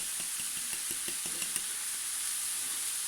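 Ground beef with turmeric is stirred in a hot pan for mhajeb filling. A steady sizzle runs throughout with light scraping and tapping strokes in the first half, and no one speaks.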